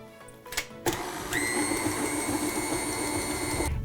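Electric mixer churning a thick no-bake protein dough with vanilla protein powder, a steady loud whirring motor hum with a high whine that starts abruptly after a few clattering knocks and runs continuously until cut off.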